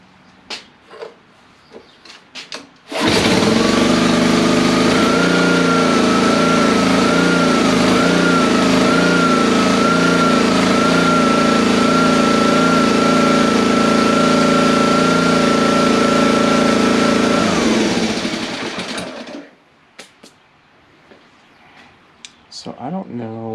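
A Honda GCV160 small engine running on choke, starting abruptly and holding a loud, steady drone with a wavering whine for about fifteen seconds before cutting off.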